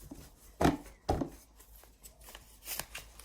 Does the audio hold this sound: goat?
no